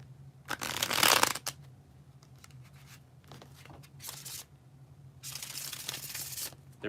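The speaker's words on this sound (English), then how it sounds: "Here is that bridge shuffle thing." Several bursts of playing cards being riffled and bridged together, close and crisp, with a loud first shuffle followed by softer ones and quiet pauses.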